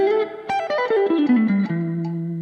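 Guitar exercise with hammer-ons, pull-offs and slides over a 150 BPM metronome, quick cascading notes descending fast before settling on a sustained ringing note, close and alone.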